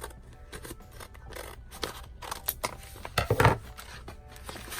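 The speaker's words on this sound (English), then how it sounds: "And I'm going to cut it from up here." Scissors snipping through scrapbooking paper from a Maggie Holmes Heritage kit, a close series of crisp, irregular cuts building to a louder cluster near the end, with no talk over it.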